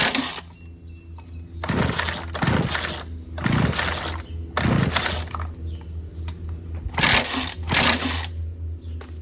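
Old Kohler Command 16 hp lawn tractor engines are pulled over by hand, giving a series of short whooshing, clattering compression strokes over a low background hum, about seven close pulls spaced unevenly.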